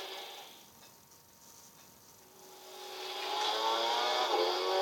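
A 1972 Alpine A110 1600S engine in Gran Turismo 6: faint tone that dips then swells into a rising rev, thin and synthetic-sounding, growing louder toward the end.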